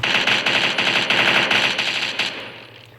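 Rapid bursts of automatic gunfire from a gun mod in Minecraft, loud and continuous, then fading out at the end.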